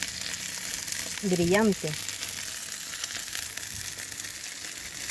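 Chicken meat sizzles on a barbecue grill, a steady close hiss and crackle under a brief spoken word near the start.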